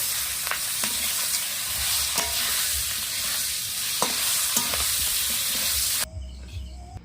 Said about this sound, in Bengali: এইভাবে আমি সব চিংড়ি মাছগুলো ভেজে নেবো